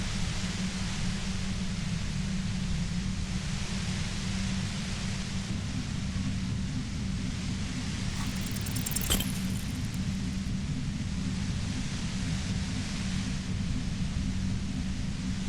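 Dense, steady white noise hums near a compressor in the video game Disco Elysium, an unbroken wash with a low droning layer, briefly marked by a faint crackle midway.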